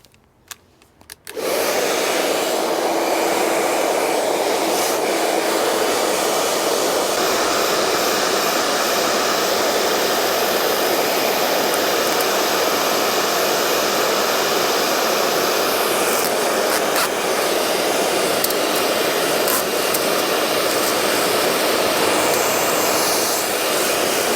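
A heat gun runs continuously, warming the window tint glue on an Audi TTRS. A couple of clicks are followed by a loud, steady blowing roar that holds for about twenty seconds, close up and with no talk.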